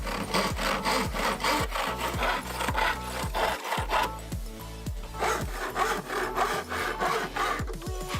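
A hand saw cutting through wood in a steady rhythm of rasping back-and-forth strokes, about two per second, close and fairly loud, with a brief pause midway before the strokes resume.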